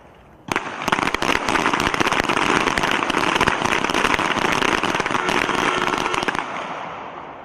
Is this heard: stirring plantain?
no